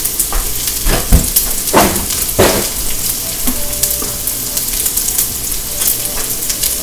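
Chicken fried rice sizzles and crackles steadily in a hot pan, with louder bursts of frying and stirring scrapes, close and loud with no talking.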